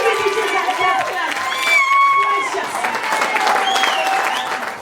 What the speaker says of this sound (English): I would like all the women in this place to stand up and clap.